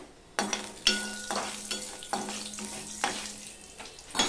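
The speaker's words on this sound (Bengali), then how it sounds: "তেলটা গরম হয়ে গেছে, দিয়ে দিলাম কালো জিরে ফোড়ন।" Black cumin seeds temper in hot oil, giving short sizzling bursts that flare and fade several times, with stirring clatter between them and a low steady hum beneath.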